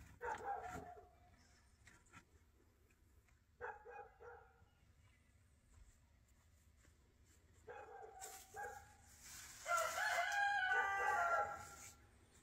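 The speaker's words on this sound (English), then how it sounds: "Don't you just love the sound of the rooster and the dog barking in the background?" A rooster crows in the background while a dog barks nearby outdoors. Both are fairly faint, in scattered bursts, with a louder, busier stretch of crowing and barking near the end.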